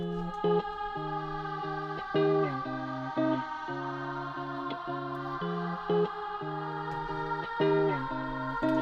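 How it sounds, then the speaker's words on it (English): Sustained choir chords drenched in heavy reverb, the voices shifting between held harmonies with a washy, echoing tail. "Choir reverb. Here we go. Let's hear this."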